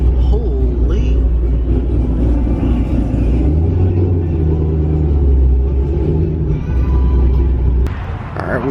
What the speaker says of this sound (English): The Z01 was sounding pretty good on the way here.